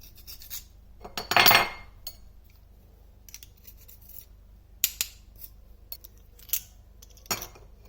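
A garlic crusher squeezes two garlic cloves in a home kitchen: one loud, close crunching squeeze, then a few faint, scattered clicks and taps.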